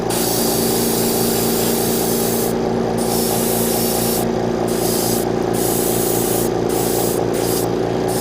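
Loud, continuous hiss of an airbrush spraying paint onto the leg part of an HG Gundam Barbataurus model kit, broken by several short gaps where the spray stops and starts again.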